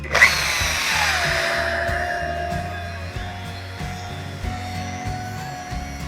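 A rotary polisher compounds the gel coat on a black 2018 Regal boat at high speed, a steady whirring motor that drops in pitch after startup and then holds a continuous drone with slight load changes, with no speech.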